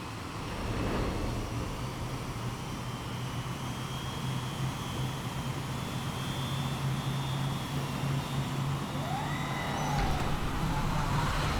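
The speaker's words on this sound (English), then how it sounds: "Barely got a credit to our name and we're already taking a chopper." Helicopter transport flight in Xenoblade Chronicles X Definitive Edition, a steady loud whirring rotor and engine drone sustained throughout with no talk.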